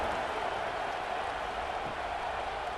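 A stadium crowd roars at a college football game in College Football 26, a steady, broad wash of cheering noise with no breaks.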